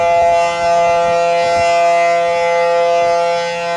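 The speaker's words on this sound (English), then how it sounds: "raid siren that they used for World War II that is now part of the Pacific Tsunami warning system" A World War II era air raid siren, now part of the Pacific tsunami warning system on Maui, wails loud and steady as one sustained, droning tone that holds without a break.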